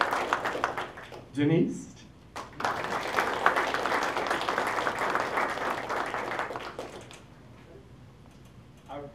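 An audience applauds named participants at a launch challenge event, a steady burst of clapping lasting several seconds, briefly preceded and followed by a speaker's voice calling out names.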